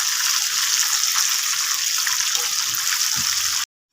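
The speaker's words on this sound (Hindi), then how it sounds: "ये देखें हमारी फ़िश अच्छे तरीके से फ्राई हो गई है।" Rahu fish pieces shallow-frying in a pan, a loud continuous hiss and spatter with a faint voice murmuring underneath, ending in an abrupt cutoff to silence.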